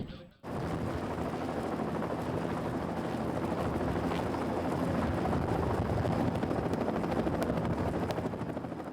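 A helicopter hovers during a film stunt shoot, a loud, continuous rotor roar that starts abruptly and holds steady and close for the whole stretch, with faint rhythmic blade chop underneath.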